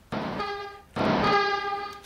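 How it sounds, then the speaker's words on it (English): A vehicle horn honks twice in a Minecraft mod, two loud, clear tonal blasts, the first lasting under a second and the second slightly longer, with a short gap between them. "I can even honk the horn."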